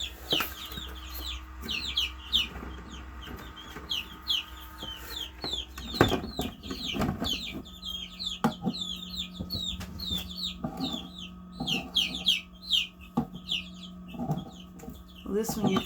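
Many baby chicks peep busily inside a Nurture Right 360 egg incubator, with dense, rapid high chirps running throughout over a steady low hum and occasional soft bumps.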